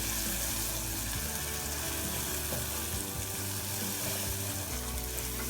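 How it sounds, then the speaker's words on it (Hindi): Ground spices (garam masala, cumin, kalonji, salt, red chilli, turmeric) roasting in a hot pan for aloo chana bhujia, a steady close sizzle and crackle with faint stirring throughout. "ये देखें मसाला भून रहा है।"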